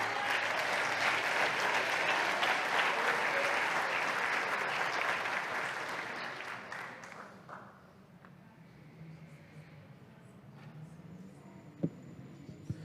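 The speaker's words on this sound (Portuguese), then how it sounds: "Aplauda ao Senhor, irmão, por isso." Church congregation applauding loudly and steadily for about seven seconds, then the clapping fades out to a quiet room with a few scattered claps and small noises.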